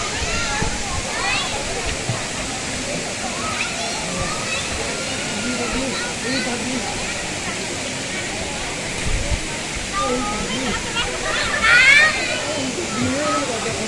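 Phlio Waterfall in Chanthaburi, Thailand, rushes as a steady wash of falling water at the start of its cascades, with people talking over it throughout.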